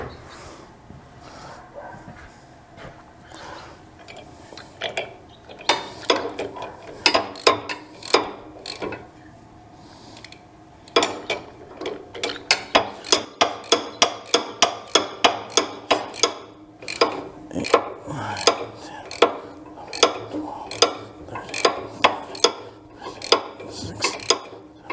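Torque wrench tightening slip clutch bolts on a King Kutter tiller, a run of sharp metallic ratcheting clicks in repeated close bursts, loud and near, with no talking.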